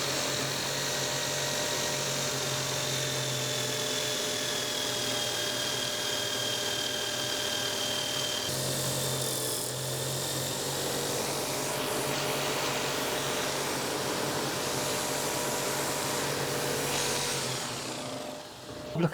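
A big power sander grinds steadily at pallet wood being shaped into a guitar part, a loud continuous whirring roar that holds for most of the stretch, shifts briefly in tone partway, then cuts off near the end.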